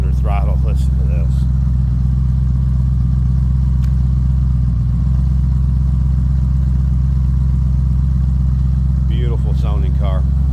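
A 1999 Shelby Series 1 sports car engine runs loud and steady with a deep low rumble, rising briefly under throttle, while a person talks over it at the start and again near the end.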